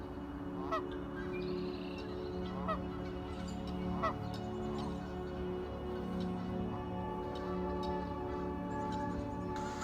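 Several geese honk at a distance, scattered calls rising over a steady low ambient drone, fairly faint.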